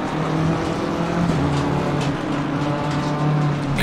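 Race car in Assetto Corsa Competizione at Zolder, a BMW or Ferrari GT, droning alongside on the left; a loud, continuous engine note with shifting pitch and roar, close by throughout, no talk.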